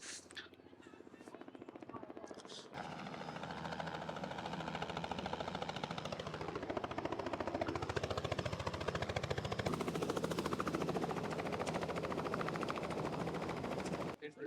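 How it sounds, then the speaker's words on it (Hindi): Helicopter arriving and landing at a wedding gathering, its rotor chop loud and close and building steadily as it comes down, with a crowd audible beneath. "हम देख रहे हैं कि किस तरह से ये हेलीकॉप्टर आ रहा है"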